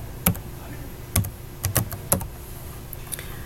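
Keys on a computer keyboard are tapped while a word is typed into an Excel cell, with a handful of sharp, close, irregular clicks coming in short clusters and brief pauses between them.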